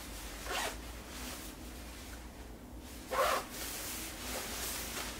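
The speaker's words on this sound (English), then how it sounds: "And on the other side, another zipper pocket here." Two brief zipper pulls on a pocket of a Zeroxposur men's hooded puffer jacket, one quick near zip early and a louder, sharper one midway, set against a quiet room.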